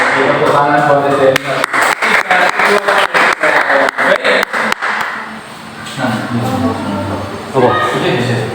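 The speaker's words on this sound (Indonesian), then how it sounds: "Tepuk tangan buat Dede." An audience at a school admissions information session claps in a rhythmic burst of applause, loud and close, then settles into murmuring crowd voices and talk afterward.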